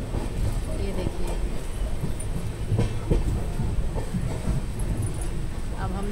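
A passenger train rolls along the tracks, making a continuous rumble with faint rhythmic clatter. People talk over it close by.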